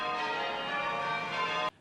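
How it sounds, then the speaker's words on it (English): Church bells ring at Holy Trinity Anglican Church in Orange, a loud sustained metallic tone with rich overtones that holds steady and then cuts off abruptly. "Orange was alive with the sound of bell ringing."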